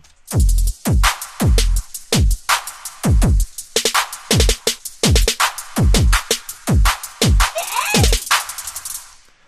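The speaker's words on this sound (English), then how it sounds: "the drums and sounds that goes on here is combined with the Wind Waker sound from Link that says yay" Punchy electronic drum hits pound in an uneven pattern, with a short bright "yay" voice blip from Link in Zelda: The Wind Waker near the end, loud and upfront.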